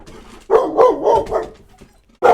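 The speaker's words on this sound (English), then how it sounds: "That's my dog telling you to subscribe." A dog barks loudly nearby, a quick run of sharp yips and barks in close succession, then a short pause before one more bark begins.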